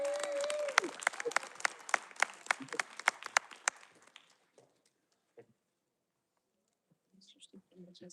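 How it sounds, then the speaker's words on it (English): A small audience claps for a named person, sparse distinct handclaps ringing out for a few seconds and fading to silence, followed by faint scattered sounds near the end. "Give a round of applause for Susie White"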